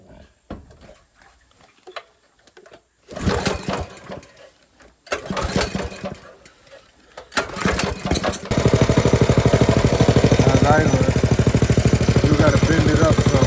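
A motorcycle engine fitted with a VM22 clone carburetor and a new muffler starts up and settles into a steady, loud idle, after a few shorter bursts of running, with people talking over it early on.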